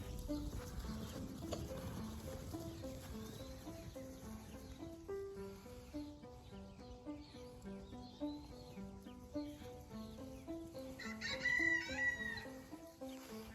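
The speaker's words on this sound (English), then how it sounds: "all the chickens are running back to the chicken coop" Chickens clucking and crowing as they run back to their coop, over a steady musical backdrop, with a brief burst of louder squawking near the end.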